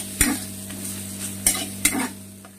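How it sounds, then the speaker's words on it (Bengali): Spice paste of ginger, chili and garlic stir-fried for fish curry, with a soft steady sizzle under three or four sharp scrapes of a spoon against the pan, close and unaccompanied by voices. "এবার এটাকে ভালো করে কষাবো যতক্ষণ না মশলা থেকে তেল ছাড়ছে।"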